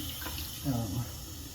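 A bathroom faucet runs while a razor is rinsed after shaving, giving a brief, soft splash of flowing water over a low background hiss.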